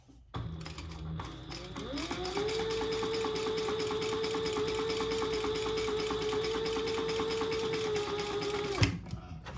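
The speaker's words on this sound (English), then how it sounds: "I'm going to go backwards for a few stitches" A sewing machine runs steadily for several seconds, a fast mechanical whir with a rapid needle clatter and a rising motor hum, stitching backward on a fabric bag before stopping abruptly, close up.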